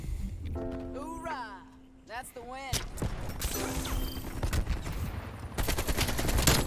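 AK-47 automatic fire in the shooter game Call of Duty Cold War multiplayer comes in rapid, loud bursts that build toward the end, after someone talks briefly at the start.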